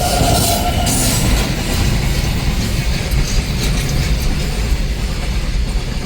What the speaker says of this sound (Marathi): बघूया रेल्वे बघून जाऊया आपण आली